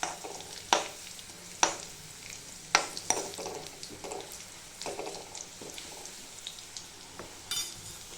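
Garlic frying in hot oil in a pan, a soft steady sizzle broken by sharp scraping clinks of a spatula stirring at irregular intervals, close and fairly quiet, no talking.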